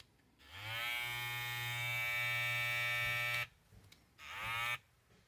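Babyliss FX787 hair trimmer with a newly replaced blade buzzing close by: a steady high-pitched motor whine running for about three seconds, then a short pause and a second briefer run, with no talking.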